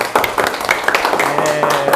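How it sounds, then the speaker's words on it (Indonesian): Students in a primary-school classroom clap for a classmate's group, a short burst of scattered, mid-level claps mixed with background chatter and a speaking voice. "kasih kita tepuk tangan buat kelompoknya Mas Fian"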